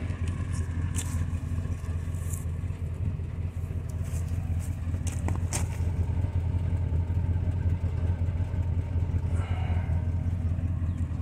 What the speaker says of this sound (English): It's even idling smooth.